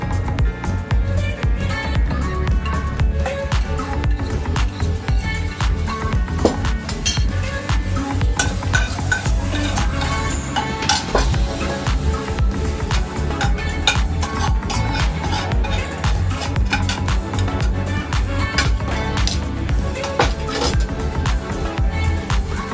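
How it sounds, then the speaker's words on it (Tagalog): Leftover food is scraped off plates amid continuous clinking and clattering of dishes and cutlery, busy and close, without speech. "Unang step, dapat alisin ang mga tira-tirang pagkain na nasa plato."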